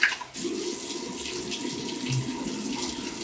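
Steady rush of warm water running from a tap into a sink during a wet shave, continuous and close, with no talking.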